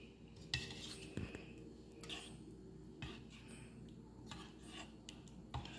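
Metal spoon scraping and clinking against a pot while stirring mocotó broth, with irregular rasping strokes and small taps, close and fairly quiet with no talk.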